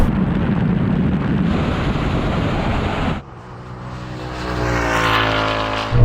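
A BMW 3.0 CSL and a Ford Mustang V8 accelerate hard side by side in a half-mile drag race, a loud, close engine roar that drops briefly at a gear change and then climbs again in pitch.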